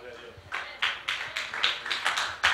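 A church congregation claps for their pastor, the claps coming in irregular bursts that build over a couple of seconds, moderately loud and a little distant, with a murmur of voices underneath.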